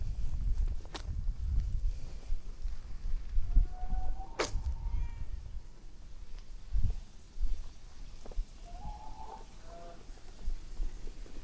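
A cat in Indonesia gives a few short, faint meows scattered over quiet outdoor background with soft footsteps and occasional clicks.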